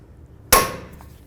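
A single sharp metallic strike of a hammer on a manual impact driver seated in a Phillips screw during a wheel bearing job on a 2011-2016 Hyundai Elantra, one loud close bonk that rings briefly and fades.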